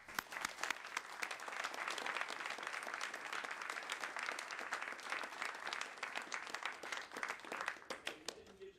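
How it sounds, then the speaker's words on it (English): An audience at a NASA science briefing on the New Horizons Pluto mission gives sustained applause, dense clapping at a steady level for nearly nine seconds with individual claps standing out near the end. "Please join me for another round of applause for this incredible mission and team."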